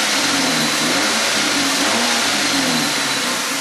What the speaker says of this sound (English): I'm just going to rev it up a little bit.